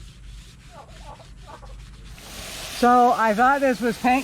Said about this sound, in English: but it's just coming right off with the scrub brush